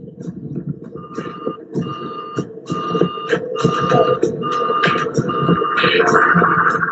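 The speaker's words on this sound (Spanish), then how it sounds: "suena la alarma de fuego" An aircraft cockpit fire alarm pulses in a steady on-off electronic rhythm over a low engine rumble, growing slightly louder toward the end.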